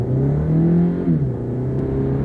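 A small, low-horsepower budget car accelerating hard on a drag strip, the engine droning and rising in pitch before a smooth gear shift drops it, then climbing again, heard up close from inside the cabin.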